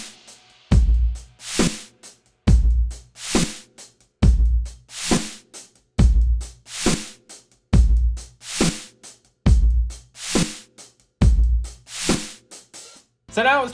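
A reverse snare sample swelling up and landing about a 16th note before a real snare hit, repeated eight times in a steady groove with a low kick under each phrase. Close, loud and without talk.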